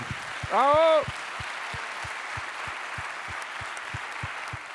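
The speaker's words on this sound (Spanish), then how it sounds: "Un fuerte aplauso para ellos, porque sin ellos esto no sería posible." Applause from a municipalist gathering forms a soft, even wash, marked by faint, regularly spaced claps, and a voice briefly cuts in near the start.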